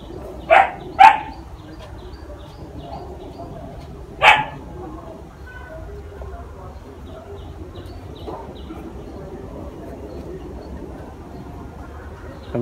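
A dog barks near a bonsai garden: two sharp barks in quick succession, then a single bark a few seconds later, over quiet outdoor background noise.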